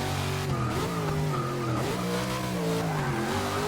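A 1969 Dodge Charger classic build launches hard in Forza 6, its engine revving loudly through rising and falling pitch sweeps while the tires screech continuously up close.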